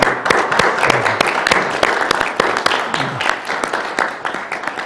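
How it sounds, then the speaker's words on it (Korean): An audience at a Korean award ceremony claps steadily for several seconds, a dense patter of many hands close by with no voices. "큰 박수 부탁드립니다"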